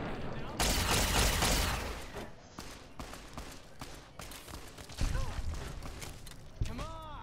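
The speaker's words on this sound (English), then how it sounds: "Whoa, stop shooting me" Gunfire in Fallout New Vegas, a heavy burst of shots opening the scene and then scattered sharp reports and impacts, with a voice speaking over the later shooting.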